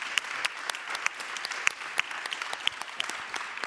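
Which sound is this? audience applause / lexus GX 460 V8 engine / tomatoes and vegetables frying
audience applause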